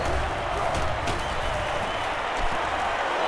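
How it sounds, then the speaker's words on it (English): A dense, continuous roar of a stadium crowd in NCAA Football 09 swells with scattered claps and cheers, steady and broad from the stands, heard alone without commentary. "So this crowd is making their presence felt."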